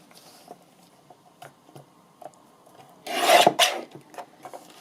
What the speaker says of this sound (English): Trim a bit off the side here.